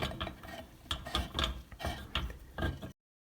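An LED bulb twisted slowly into a recessed can light socket on an angled ceiling, giving close, faint ratcheting clicks and gritty scrapes in uneven bursts, then silence.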